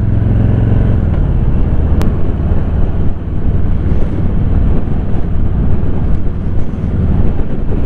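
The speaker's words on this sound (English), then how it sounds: "This Harley's my first cruiser style motorcycle" A Harley cruiser motorcycle out on the road, its low engine drone nearly buried under heavy, constant wind buffeting against the microphone, loud and unbroken throughout.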